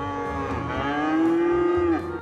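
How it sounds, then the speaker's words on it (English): Cattle in the city-building game Cities Skylines give a single long, close moo that rises and holds steady, with no talk over it. "Now they're just really angry cows."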